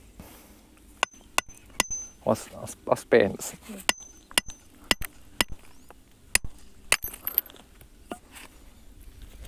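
Sharp hammer blows striking a small piece of iron-oxide-rich jasper rock, a dozen or so crisp clacks at uneven intervals, close and loud, with brief talk and handling noise between strikes.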